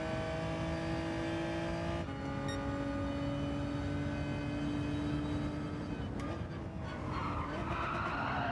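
Several race car engines drone together in Gran Turismo 7, tones holding and shifting as gears change, with tyre skidding and a rising roar near the end, dense and continuous.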